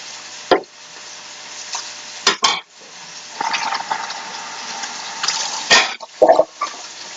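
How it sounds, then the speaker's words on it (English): Seitan, a vegetarian wheat-gluten meat substitute, frying in a hot pan, with a steady low sizzle broken by several sharp clatters and scraping stirs of a utensil against the pan, close by and with no talking. "just fry it like you would any other kind of meat"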